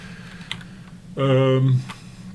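Soft, sparse clicks of keys on a MEGA65 computer keyboard as LIST is typed, with a brief, louder tonal voice-like sound in the middle.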